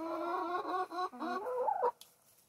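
Backyard hens cluck in a quick run of short, rhythmic calls, close and fairly quiet, ending in a rising squawk before falling silent.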